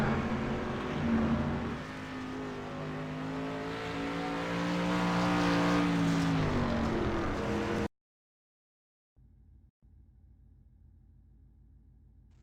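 Race cars roar around a track at the checkered flag of a heat race, with steady, loud engine drone and rising pitch as they pass. The sound cuts to silence, then a faint low hum follows.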